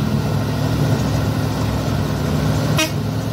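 A Canter diesel truck on the road drones with a steady low engine rumble, and a brief horn toot sounds near the end; no one speaks.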